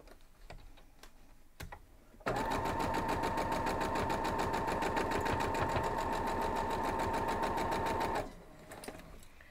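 A sewing machine runs a steady fast stitch across a four-patch quilt block, a loud even whirring clatter lasting about six seconds, with quieter handling noises before and after.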